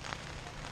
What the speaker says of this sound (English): So now it's raining, and we're just chilling in our tent.